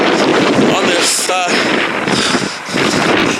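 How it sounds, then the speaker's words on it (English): Strong wind roars and buffets the microphone in a snowstorm with blowing, drifting snow in Chatham, Ontario, a dense rushing noise that swells and dips over a few seconds, with no clear voice. "Windy, blowing and drifting snow in Chatham, Ontario, Canada"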